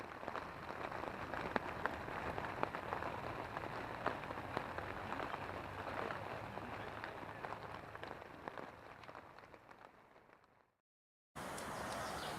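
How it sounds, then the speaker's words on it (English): Evening rain falls steadily at a campsite, a dense continuous patter with scattered sharper drops that runs evenly for about ten seconds before cutting out briefly and then resuming at the same level. "shelter from the evening's rain"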